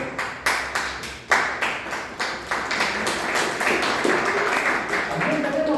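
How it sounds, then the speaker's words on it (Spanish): Applause bursts out in a studio, sharp claps quickly building into steady, dense clapping from a crowd, with voices faintly mixed in. "la licenciada María Isabel Juárez Soto, para la que pido fuertes aplausos"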